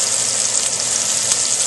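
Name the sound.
chicken frying in oil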